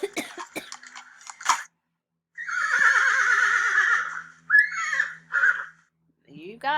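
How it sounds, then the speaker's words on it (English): A horse whinnies in long, quavering neighs, loud and near, with a cough-like snort and a few sharp clicks of hooves before and between the calls. "That's the sound of a horse and a horse walking."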